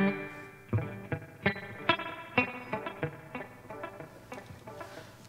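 Electric guitar played through a Line 6 Catalyst 100 amp with its reverb turned up for a dripping effect, a run of plucked notes that each splash and trail off into wet, echoing decay, close and without voices.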